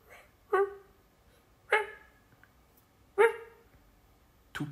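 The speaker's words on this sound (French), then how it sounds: "un aboiement plaintif" A dog gives plaintive, whining barks close by: four separate yelps spaced roughly a second apart, each sharp and tonal against near silence.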